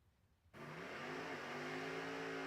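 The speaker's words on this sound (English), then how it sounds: "Trey Scharf does his burnout" Drag racing car doing a burnout at a footbrake drag race, a loud engine roar bursting in after half a second of near quiet and holding steady with rising revs to the end.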